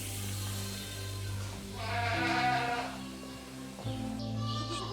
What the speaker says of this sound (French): J'ai une cinquantaine de chèvres alpines